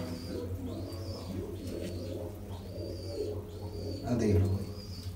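A purebred Tanne-line female pigeon coos in soft, repeated rolling calls close by, the notes rising and falling in a loose rhythm. Someone speaks briefly near the end.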